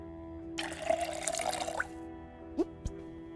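Video game sound from Project Zomboid: water pours and splashes for about a second as bottles fill, followed by two brief sharp whooshing time-speedup effects, the whole thing quiet with a steady hum beneath.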